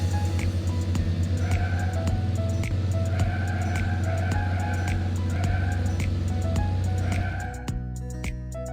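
A cartoon truck in the Baby Bus Panda Truck Driver game drives along with a steady looping engine hum, rhythmic tonal game effects and clicks, cutting off near the end to a quieter tail.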